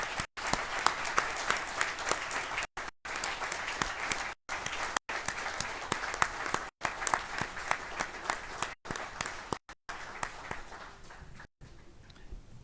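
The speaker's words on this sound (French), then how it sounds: "je pense qu'on peut l'applaudir." Council members around a table at a municipal council installation session applaud, with moderate, fairly distant clapping broken by brief dropouts across several seconds.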